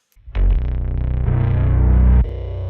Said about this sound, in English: That's the fuzz phaser sound.